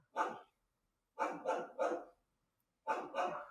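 Dogs bark in bursts of two or three at a time, with short gaps between the groups, heard clearly and without any talk.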